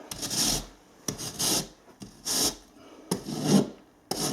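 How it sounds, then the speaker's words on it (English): A Stanley knife scores down the back of plasterboard in four separate rasping strokes, close and fairly loud, with short pauses between them. "Just get your Stanley knife, just run it down the back, like so."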